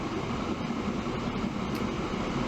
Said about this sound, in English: steel train going the other way